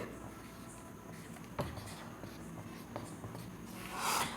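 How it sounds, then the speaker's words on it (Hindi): A refilled red marker writes on a board with steady scratchy squeaks and strokes, including a sharper tap near the middle and a louder swish toward the end, with no one speaking. "भाई, ये रेड मार्कर अभी काम नहीं कर रहा, इसमें इंक डाल लिया मैंने, तो लिखते हैं"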